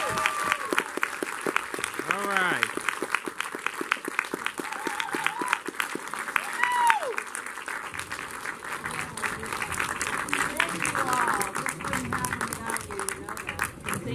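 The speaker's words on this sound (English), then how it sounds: "let's have a big round of applause" Audience applause fills a cinema at TCL Chinese Theaters after a Gremlins Q&A with an actress, steady clapping from a sizable crowd lasting throughout, with a few voices speaking briefly over it.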